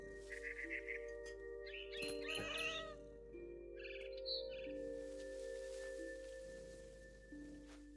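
A cat in the video game What Remains of Edith Finch meows several times in short, clear calls over a steady, quiet ambient hum, with faint bird-like chirps in between.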